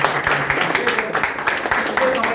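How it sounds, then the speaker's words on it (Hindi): An audience at a student theatre performance from an Urdu academy workshop applauds in dense, steady clapping throughout, close and fairly loud, with talk running over it. "ताली बजाओ भाई"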